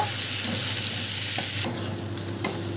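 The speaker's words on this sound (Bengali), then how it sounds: "পেঁয়াজটাকে আগে একটু নাড়াচাড়া করে নেব" Chopped medium onions fry in a pan while being stirred, making a loud, steady sizzle close by, broken by a couple of sharp spoon scrapes near the end.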